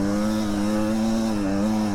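Motorcycle engine on a trail ride in third gear, holding a steady, loud drone with stable harmonics throughout and a slight dip and rise near the end, with no voices.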